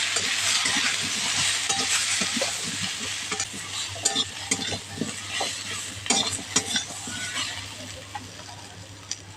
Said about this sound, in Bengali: গুঁড়ো মশলাটা আলুর সঙ্গে ভালো করে ভেজে নেব।